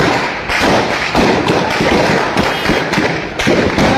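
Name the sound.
gunfire in PoK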